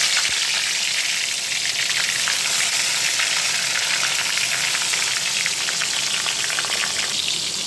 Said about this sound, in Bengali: তেল গরম হয়ে গেছে, এবার আমি বেগুনগুলো দিয়ে দিলাম।